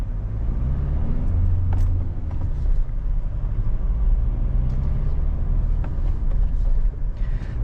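A Mahindra Thar Roxx SUV on the road, its engine and tyre rumble a steady, fairly loud low drone with wind and road noise throughout, no talking.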